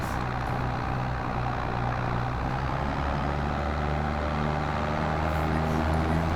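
A tractor engine drones in the Farming Simulator video game, a loud steady hum with a continuous low rumble and no other sounds.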